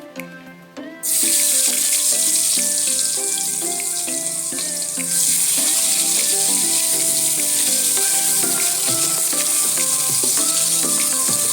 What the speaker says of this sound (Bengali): পেঁয়াজগুলো দিয়ে দিচ্ছি।